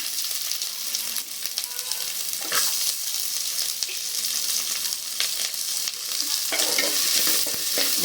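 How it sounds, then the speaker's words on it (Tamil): Onions and curry leaves sauté in a pan with a continuous close sizzle and repeated scraping stirs of a spoon across the metal, steady and fairly loud, with no voices. "வெங்காயம் போட்டு நல்லா வணக்கிக்கோங்க"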